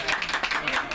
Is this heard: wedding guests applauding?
yes